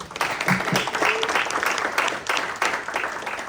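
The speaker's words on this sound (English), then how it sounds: "Give yourself a round of applause." Audience applause fills a public celebration of Title IX's fiftieth anniversary in Pittsburgh, a steady, fairly loud burst of clapping from a morning crowd, with a few voices faintly mixed in.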